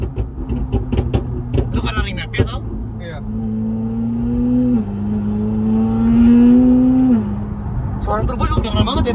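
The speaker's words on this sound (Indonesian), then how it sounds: "Suara turbo juga kedengeran banget ya di belakang ya" A McLaren 720S with its engine revving and turbo whoosh, a rising pitched tone climbing over a rumbling exhaust for several seconds, with voices talking and the car's mechanical noise before and after.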